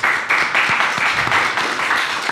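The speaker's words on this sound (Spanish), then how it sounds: "Un aplauso a Rendo que estuvo con nosotros" A crowd claps steadily for a couple of seconds, dense and even applause at close range with no talking over it.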